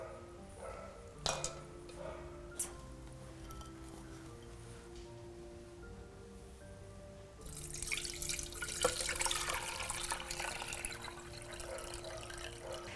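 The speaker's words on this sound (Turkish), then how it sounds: "İkinci fermentasyon için e, kefirimizi süzüyoruz." Kefir being strained after its first fermentation, quiet liquid trickling and small clinks for several seconds, then a louder, steadier pouring and splashing stream in the second half, with faint background hum.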